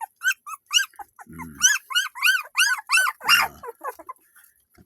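Four pet puppies yelp and whine up close in a quick run of high chirpy squeals, with a couple of deeper throaty sounds, and a person murmurs briefly.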